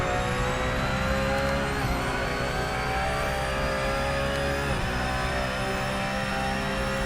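Race cars in Project Motor Racing roar continuously, a loud, steady engine drone with pitch dipping and climbing through gear changes, no voices over it.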